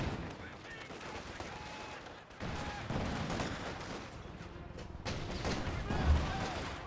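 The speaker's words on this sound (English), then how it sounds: "120mm mortar firing away" A 120mm mortar firing in the Company of Heroes 2 battle game, with booming shots and steady battle noise layered beneath a voice talking throughout.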